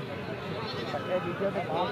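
Goats bleat several times amid the steady crowd noise of a busy goat livestock market, while people talk nearby.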